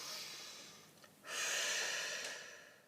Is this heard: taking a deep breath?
yes